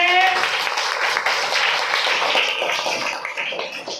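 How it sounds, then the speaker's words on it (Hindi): An audience claps steadily and fairly loudly for several seconds after a short spoken cue, the sound a dense, even patter throughout. "सभी एक बार जोरदार ताली बजाएंगे।"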